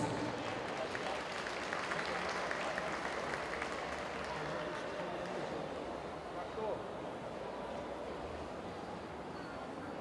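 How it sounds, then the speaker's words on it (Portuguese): Lecture audience on Japanese etiquette and culture applauds steadily, a soft, distant wash of clapping that slowly fades, with faint voices underneath. "Uma salva de palmas."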